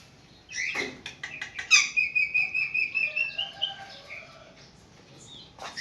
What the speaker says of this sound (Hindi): ये हमारी मैना है।